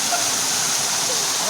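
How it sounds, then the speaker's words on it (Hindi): A waterfall roars as a steady, dense wash of rushing water with no breaks, loud and close. "मैं अब आपको दिखाऊँ ना कि कैसा वाटरफॉल दिख रहा है"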